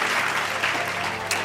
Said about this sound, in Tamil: கைத்தட்டுங்க வந்து.